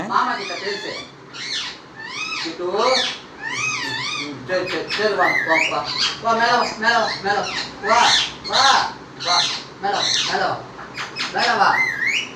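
A pet parrot squawks and chatters up close in a continuous run of warbling, wavering calls and speech-like mimicry, loud and busy throughout.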